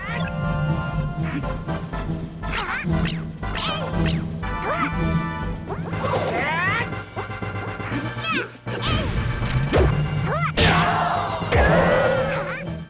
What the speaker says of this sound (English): beam sword swings more closely resemble the sounds of a lightsaber